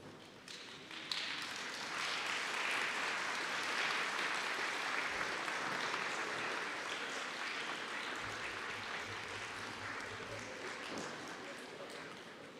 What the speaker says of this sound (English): express your gratitude to those who have supported you with a round of applause